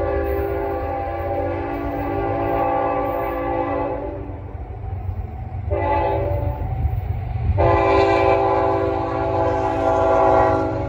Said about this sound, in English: there's the CSX train